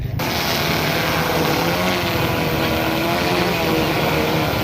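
A large agricultural spraying drone flies over terraced wheat fields, its rotors producing a loud, steady buzzing drone that fills the whole stretch without pause.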